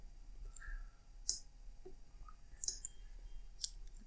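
Sharp computer mouse clicks while working in Blender 3D modeling software, a handful of separate crisp clicks spaced irregularly over a quiet background hum.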